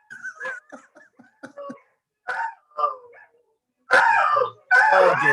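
Dogs indoors give a mix of short yips and whines that rise into loud, drawn-out howling and barking toward the end, near and uneven in rhythm.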